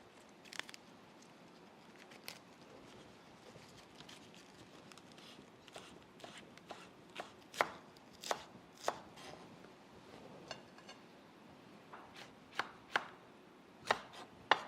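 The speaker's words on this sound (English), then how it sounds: "I'm going to do the lettuce leaves first." Steady knife chopping of lettuce leaves on a board, a string of crisp close taps at an uneven rhythm, getting sharper and more regular toward the end, with no talking.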